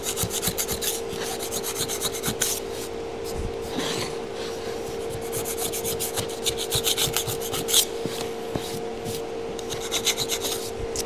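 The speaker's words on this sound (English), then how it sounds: "I'm just going to grab underneath the template, pry it off, and then just take and scrape the rest of this glue off." Dried glue is scraped off a wooden router template used for making plaques and taxidermy mounts, producing a close, repetitive rasping rub in steady back-and-forth strokes.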